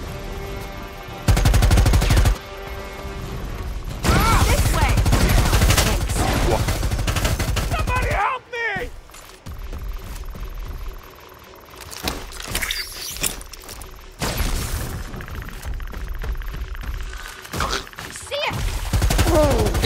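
Gunfire in the multiplayer game Predator: Hunting Grounds, with loud bursts of automatic shots coming in several separate volleys between quieter stretches, and occasional voices underneath.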